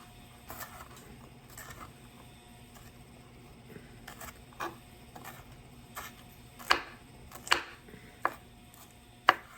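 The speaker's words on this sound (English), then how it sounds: "Now I'm going to chop it up a little finer." Knife chopping food for a cheap meal, a few soft scattered taps early on, then several sharper, louder chops near the end against a quiet background hum.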